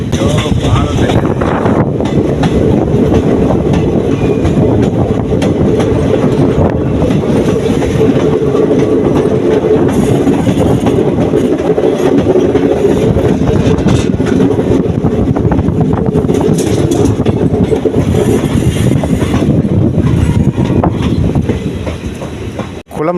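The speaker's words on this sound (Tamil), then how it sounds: "அங்கேருந்து ட்ரெயின் வந்துருக்குங்களா? அங்கே பாருங்க, அங்கேருந்து வருது." Chennai Egmore Express 16102 rumbling along the railway track on the Kollam–Madurai line, a loud continuous roar with rhythmic wheel clatter and wind buffeting the microphone, steady throughout before easing off at the end.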